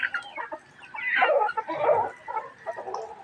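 Small chickens cluck and peck at scattered feed nearby, their soft, busy clucking rising and falling steadily with no talk over it.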